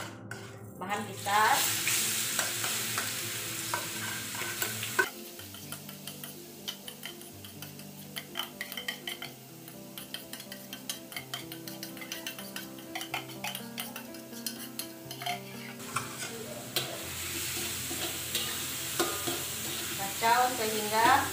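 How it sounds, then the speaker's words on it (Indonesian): Ingredients for mee belacan fry in hot oil in a pan, with a constant close sizzle and the rhythmic scrape and tick of a utensil stirring throughout, occasionally louder bursts of frying. "Kalau minyak panas, masukkan bahan kita."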